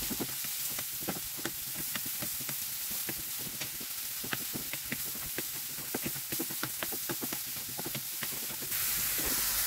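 Sliced mushrooms fry with golden-browned garlic in a pan, giving a steady sizzle with many sharp crackles and pops throughout, fairly close, with a louder hiss near the end and no talking.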